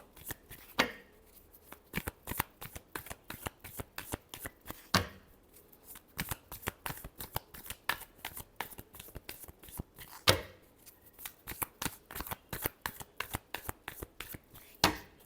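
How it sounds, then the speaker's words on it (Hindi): Tarot cards are shuffled in a quick, crisp series of riffling flicks and taps, close and quiet, repeating with short pauses and a few sharper slaps, with no talking. "Last shuffle."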